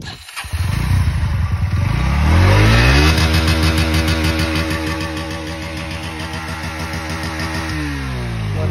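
An NS125 motorcycle with no silencer fitted fires up and revs hard, a loud raw blast that swells and then settles into a steady, throbbing high idle close by, with no talk.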